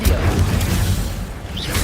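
Incendio fire spell cast in Hogwarts Legacy during a fight with spiders, a loud rushing burst with low rumbling that runs steadily for about two seconds, with a brief bright flicker near the end.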